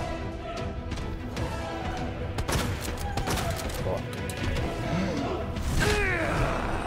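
A shotgun fires several sharp blasts in the Resident Evil 2 video game, spread irregularly among clanking mechanical game sounds and low creature groans, fairly loud and close.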